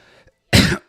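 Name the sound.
cough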